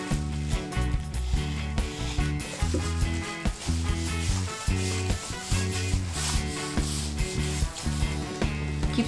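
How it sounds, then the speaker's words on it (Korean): Steady, repeated rubbing and wiping of oil into wood, close by, beneath continuous background music. "약병에 들어있는 오일을 나무에 바르고 문질러 주세요"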